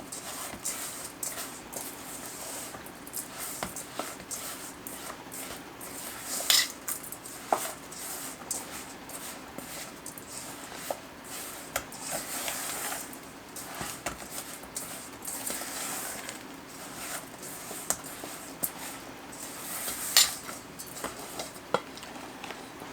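A spoon works a bacon dry rub paste in a bowl with repeated soft scraping and clinking strokes, uneven in rhythm, over a low steady background hiss.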